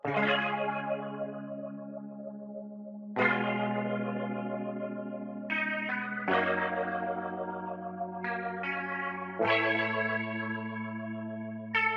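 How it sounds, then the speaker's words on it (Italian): Sustained electric guitar chords ring out with a sweeping wah-wah filter effect, the tone opening and closing as new chords strike every few seconds. "Si chiama Wawa perché appunto fa Wow, wow."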